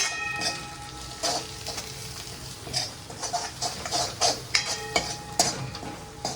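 Spices and asafoetida are stirred and fried in a pan, with steady sizzling and repeated metallic scrapes of the spoon sounding close and fairly loud.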